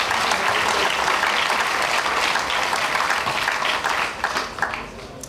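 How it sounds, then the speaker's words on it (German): Dense, loud applause from a large audience at the opening of a wine festival in Breisach, a continuous roar of many clapping hands that thins slightly toward the end. "Das gibt man natürlich Applaus."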